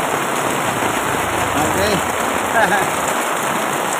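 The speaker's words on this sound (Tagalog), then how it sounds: "Medyo lumalakas pa rin ang ulan." Heavy rain pours down in a constant, dense hiss close by, with a voice briefly speaking over it.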